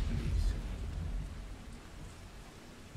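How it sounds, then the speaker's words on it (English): Rain and thunder in the video game Dying Light: a continuous patter of rainfall over a deep rumbling low end, loudest at the start and easing slightly, heard alone. "Thank God it's raining."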